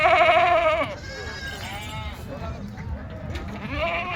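Goats bleat repeatedly at a livestock market in Vasmat, Hingoli district, with a loud, close call at the start, then further overlapping bleats against background crowd noise.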